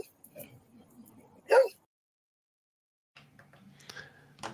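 A dog standing chest deep in water whimpers and gives a short bark, a brief loud yelp in the middle between quieter whines and splashy rustling, fairly close.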